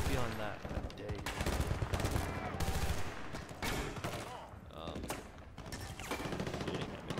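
Dense, continuous gunfire and explosions from the video game Battlefield Bad Company 2, with rapid shots and bursts layered over game noise throughout.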